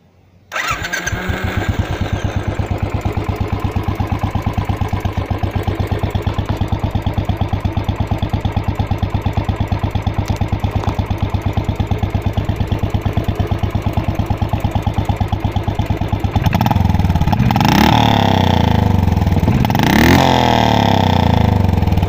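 A Royal Enfield Classic 500 motorcycle cranks over and fires, then settles into a loud, steady single-cylinder thump close by, with a couple of sharp blips of revving near the end.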